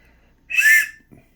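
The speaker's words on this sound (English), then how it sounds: "nice little whistle." A small, very loud orange plastic survival whistle with a clip and lanyard hole is blown once, a short shrill blast of about a third of a second, close and alone.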